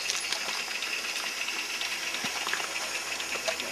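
A live-steam 141 R model locomotive running on its own gives a steady close hiss of steam with faint mechanical rattle throughout, and nobody speaks.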